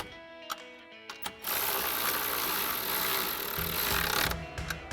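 A 13mm socket on a ratchet tightens a bolt while Barricade Canyon drop steps are fitted to a 2015-2025 Ford F-150. A few separate clicks lead into about three seconds of steady, fast, close ratcheting, then it stops.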